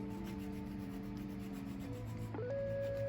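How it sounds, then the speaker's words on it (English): A nail file rubs gently back and forth across fingernails in soft, close, continuous strokes, faint against a quiet background. "now what I'm gonna do, I'm gonna just gently file down my nails."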